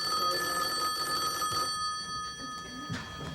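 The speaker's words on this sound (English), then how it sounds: "When the phone or the doorbell rings" A telephone bell rings in a home with an assistance dog, a steady bright ringing tone that fades partway through, heard alone without talk.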